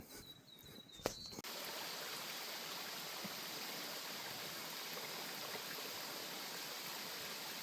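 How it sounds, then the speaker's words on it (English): A mountain creek on the Tooloona Creek Circuit flows steadily, a constant broadband rush of water that fills the scene after a brief knock at the start, with no voices over it. "Just starting to get a lot quieter as the creek's just not as strong as we keep going up it."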